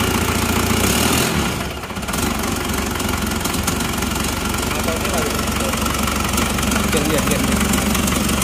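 A repaired engine, its cylinder just reworked, cranked and running at a loud steady idle with a rough knocking rattle, a brief dip near the start and a voice speaking briefly over it.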